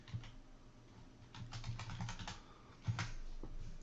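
Quick keystrokes on a computer keyboard as a short command is typed, soft close clicks in a brief uneven burst with a couple of heavier taps, quiet and alone without any talk.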